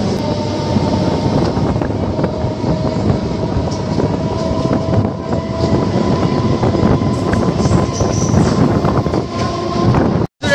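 Local commuter train running just past Dum Dum station toward Naihati, a loud steady rumble and rattle of wheels on track with wind buffeting, continuous throughout before cutting off sharply at the end.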